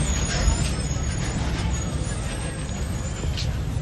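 A bus pulling into Sindhanur bus stand with a loud continuous hiss of air brakes over a low engine rumble, close by and steady throughout, with busy station noise around it.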